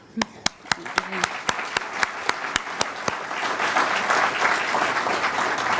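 A graduation honors audience applauds graduates, opening with a dozen slow, evenly spaced near claps that swell into dense, sustained clapping from the crowd.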